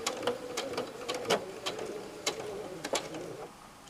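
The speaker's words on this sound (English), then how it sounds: "So I'm now putting right sides together, line the corners up, and then start stitching." A sewing machine stitching a quilt seam with a quarter-inch allowance: a soft, steady mechanical hum broken by irregular sharp clicks, fairly quiet and heard alone.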